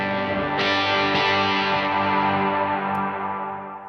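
Electric guitar through a light first-stage overdrive, a few gritty chord strums sustaining and slowly decaying, played alone.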